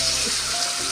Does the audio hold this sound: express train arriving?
no